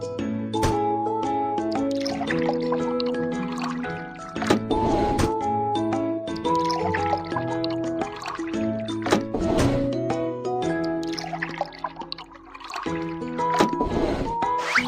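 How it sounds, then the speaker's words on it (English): Cartoonish liquid pouring into a car's tank in a children's car-repair game, with bubbly gurgling and dripping squishes repeating in bursts over light, bright background music. "Pour liquid into the correct tank."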